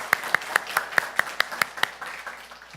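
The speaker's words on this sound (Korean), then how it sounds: "환영합니다. 박수." A church congregation at a Sunday worship service claps to welcome someone: about eight sharp, evenly spaced claps, fairly close, which stop partway through and leave quiet room tone.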